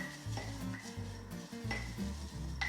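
A spoon stirring chia seeds into a wet vegan oat mixture in a bowl, giving soft repeated scraping and wet churning sounds at close range with light clinks of utensil on dish.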